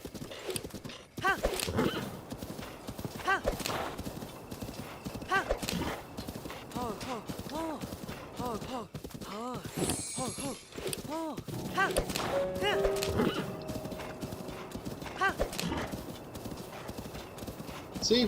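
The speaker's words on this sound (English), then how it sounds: "That horse looks a lot like Epona" In Zelda Breath of the Wild, horse hooves clip-clop in a steady galloping rhythm with occasional neighs and thuds. A person talks over the hoofbeats throughout.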